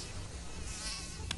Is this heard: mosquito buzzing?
yes